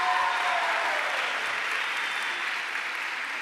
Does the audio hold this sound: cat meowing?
no